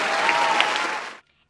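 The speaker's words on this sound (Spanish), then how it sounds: "¡Aplausos!" Brief burst of clapping, sounding like an added applause effect, lasting just over a second before cutting off abruptly to silence.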